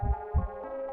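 Two deep, muffled heartbeat thumps in quick succession over a steady low hum, like a dramatic sound effect.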